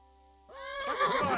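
A horse in the video game Kingdom Come: Deliverance lets out a short, loud whinny that rises over a quiet background and ends in a shaky, wavering neigh.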